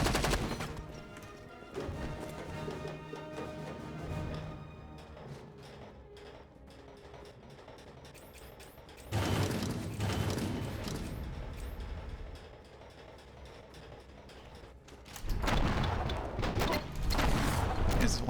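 Gunfire in Enter The Matrix during a gun dive: several rapid volleys of shots, moderately loud, separated by quieter stretches of game sound.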